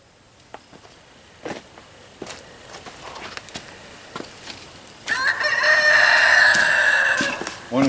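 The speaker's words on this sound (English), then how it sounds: "Want to see a chicken stampede?" Chickens stampede across the ground close by, with scattered footsteps and clucks building into a loud, continuous rush of wings and squawking, followed by a crow.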